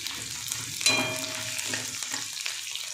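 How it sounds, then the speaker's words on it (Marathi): Peanuts and chana dal frying with onions in oil, a close steady sizzle with a brief metallic clink of a utensil and intermittent stirring scrapes. "आता याच्यामध्ये शेंगदाणे आणि फुटाण्याची डाळ घालून चांगलं परतवून घ्यायचं"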